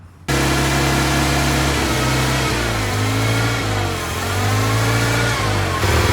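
An old Toyota forklift engine runs loud and high, its revs dropping and wavering as it is brought down toward idle, then cutting off abruptly at the end.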